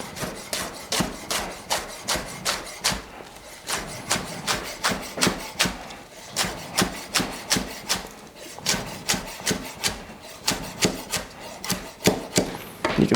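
A kitchen knife slices rolled ramps into fine ribbons on a cutting board, a steady run of crisp close chops in even rhythm, heard alone.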